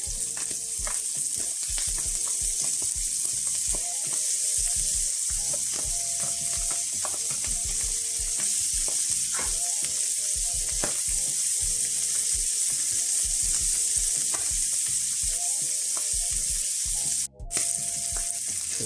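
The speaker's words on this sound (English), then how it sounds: "Now we're going to add our parsley and garlic." Parsley and garlic sizzle in a pan with green asparagus, a steady close frying hiss with scattered crackles and pops running throughout, with no talking.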